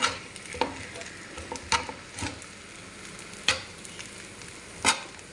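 Bacon fried rice stirred and fried in a pan, with a low steady sizzle and sharp scraping strokes of the utensil at irregular intervals, close and alone.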